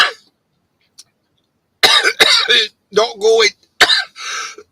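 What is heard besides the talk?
coughing fit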